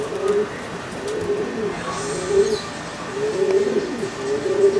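Pigeons coo outdoors over a neighbourhood, several soft repeated low cooing calls rising and falling through a light background hum.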